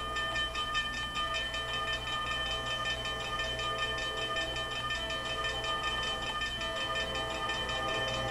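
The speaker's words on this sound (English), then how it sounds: "As the train picks up speed" An Amtrak train on the CN Holly Sub in the Trainz simulator rolls along with a steady, loud diesel drone, tonal engine whine and continuous rail rumble as it gathers speed.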